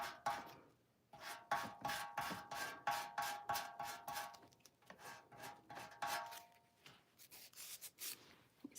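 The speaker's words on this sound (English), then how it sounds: "I'm going to try to rip this a little with my sander." A small electric sander roughs up the edge of decoupage paper laid on an old metal milk can, giving quick repeated rasping strokes, close and fairly loud, with brief pauses between bursts.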